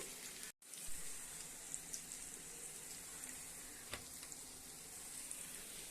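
Ivy gourd fries in a pan with turmeric and salt, giving a steady, hissing sizzle throughout. There is a brief dropout early on and a single sharp click near the middle, with no one talking.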